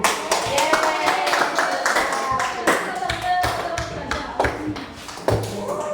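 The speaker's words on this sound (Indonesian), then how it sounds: "Tepuk tangan dulu." Classroom students clap their hands in an uneven burst of claps, fairly close, with some voices mixed in.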